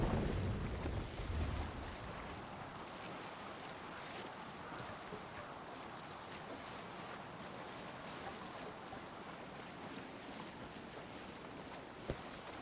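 Ship under sail on open water in the video game Assassin's Creed Valhalla, a faint, continuous rush of wind and waves with a soft low rumble and one small click near the end.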